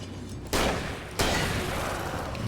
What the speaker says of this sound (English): We might have to shotgun this.